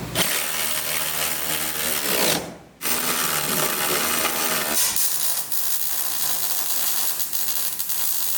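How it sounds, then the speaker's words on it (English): Grade 8 bolts being tightened on the door hinges of a Jeep FSJ Cherokee Chief rock crawler, giving a steady, close mechanical whirring and ratcheting that breaks off briefly partway through, then resumes continuously with no talk. "So now I'm just gonna go around and tighten all these up."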